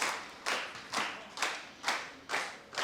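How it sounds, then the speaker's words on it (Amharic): An audience at a Women's Day celebration for a savings and credit association claps in slow, unison beats, about six sharp, evenly spaced claps that ring briefly, moderately quiet and with no talk. "ሞቅ ባለ ሁኔታ አጨብጭቡለት እባካችሁ።"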